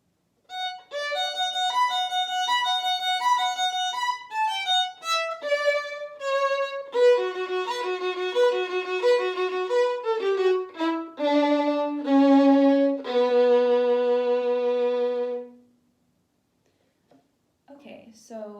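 Solo violin plays a Vivaldi passage of quick, even 16th notes with clear bowed pitches, steady and close, ending in a long held low note before a brief silence.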